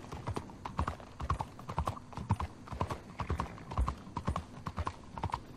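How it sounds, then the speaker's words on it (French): Horse hooves clip-clop on cobblestones in Red Dead Redemption 2, a quick galloping rhythm of close, distinct hoof strikes repeating steadily with no voices. "Du cheval qui galope sur les pavés."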